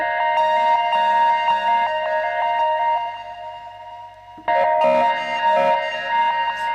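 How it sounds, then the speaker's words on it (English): Shimmering synth notes played in reverse and transposed up an octave, with a swelling, backward-sounding attack and echoing reverb, repeat in a steady pattern, shifting to brighter, busier tones halfway through. "They're played in reverse mode and transposed up an octave."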